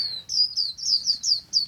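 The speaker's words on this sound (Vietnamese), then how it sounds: "Nay thì khuyên tàu đi nhiều" A flock of Chinese white-eyes caught by a bird-trapping net chirps in quick, bright, high notes, about eight close, rhythmic tweets in under two seconds, with no talk.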